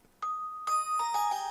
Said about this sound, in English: a bell called crystal